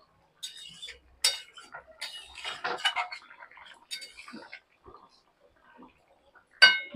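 A metal spoon stirs thin magur fish curry in a pot, clanking and scraping against the sides in irregular bursts with short quiet gaps and a final sharp clink, close by and without talk.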